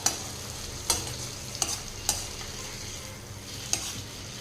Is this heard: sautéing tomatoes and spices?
yes